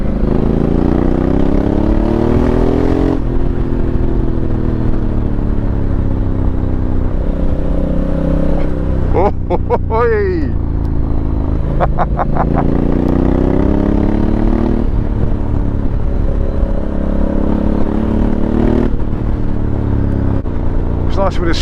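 A motorcycle rides along a dirt back lane near a lake, its engine droning loud and close throughout with rising and falling pitch as it accelerates and eases off, wind and clatter mixed in.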